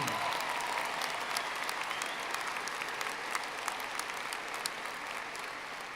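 A commencement ceremony audience gives sustained applause, a broad, even roar of many hands clapping that stays fairly constant, with scattered sharper claps standing out near the front.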